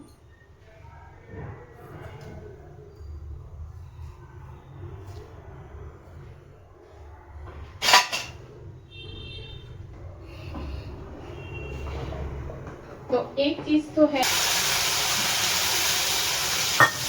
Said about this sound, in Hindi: अब मैं इसमें ये सारे खड़े मसाले डालती हूँ।